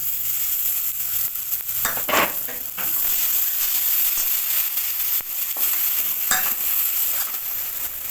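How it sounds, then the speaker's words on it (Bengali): Grated tomato going into ground spices frying with a little water in a pan for a kabuli chana curry, producing a loud continuous sizzle and hiss with occasional stirring scrapes, close up and without speech. "এবার দেবো গ্রেট করে রাখা টমেটো"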